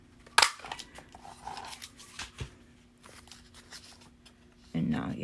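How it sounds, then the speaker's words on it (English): Scissors cutting a small notch in a paper card pocket for a scrapbook project: one sharp close snip near the start, followed by softer paper handling rustles and a low background voice. "just cut a little notch there"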